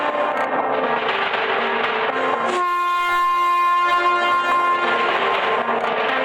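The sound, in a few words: train coming to a sudden stop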